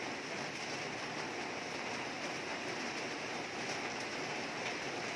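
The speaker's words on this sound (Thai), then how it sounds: "สาดมาแล้วฝนสาดแล้ว" Heavy rain pours down in a steady, dense wash that holds a constant level throughout, with no talk over it.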